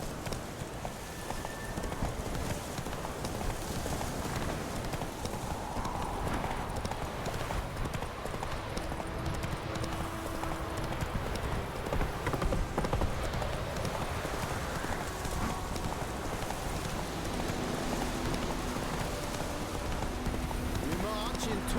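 Horse hooves clip-clop at a steady gallop in The Witcher 3, loud and continuous across the whole stretch, with game music and voices talking over the rhythmic beats.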